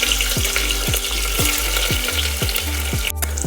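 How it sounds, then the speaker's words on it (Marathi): Chopped onion frying in oil with mustard seeds, cumin and curry leaves, a loud, continuous sizzle broken by about seven rhythmic scrapes of a spoon stirring in the pan. "कांदा आपल्याला हलकासा गुलाबी होईपर्यंत भाजून घ्यायचा आहे।"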